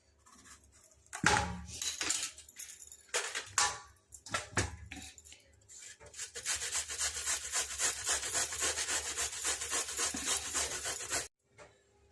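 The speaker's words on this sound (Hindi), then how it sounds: "अब हमें लौकियों को काट के घिसना है।" Peeled bottle gourd is grated by hand against a grater. A few separate close scrapes come first, then a long run of steady, rhythmic rasping strokes with no talking.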